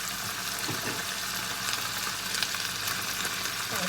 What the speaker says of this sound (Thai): แล้ววันนี้นะคะคุณก็จะผัดใส่เส้นบุกนะคะเพื่อนๆลงไปเลย